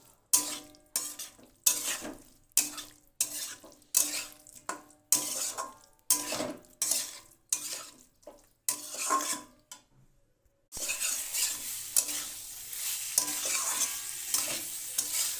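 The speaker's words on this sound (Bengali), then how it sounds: "মশলার সাথে ভালো করে কষিয়ে নিলাম সবজি" Eggplant, capsicum and onion stir-fried with spices: a spatula scrapes the pan in a steady rhythm of about a dozen strokes, a brief pause follows, then a continuous close sizzle takes over.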